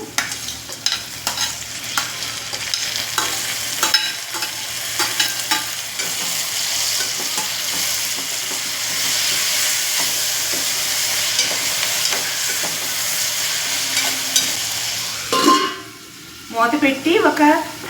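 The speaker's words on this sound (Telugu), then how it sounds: "బాగా మిక్స్ చేసుకుంటున్నాను ఇప్పుడు కట్ చేసుకున్న టమాటీలు కూడా ఇందులో వేసుకుంటున్నాను" Chopped tomatoes frying and being stirred in a pot for egg tomato pulao, a steady close sizzle with scraping stirs throughout, ending in a few louder clatters.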